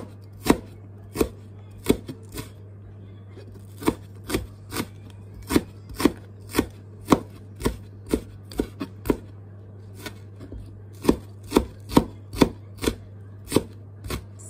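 Steady knife chops on a cutting board slicing shallots, a regular series of crisp taps at an unhurried pace, close up over a low background hum.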